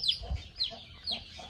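A hen clucks three times in short, evenly spaced calls, close and clear, with light background noise between them.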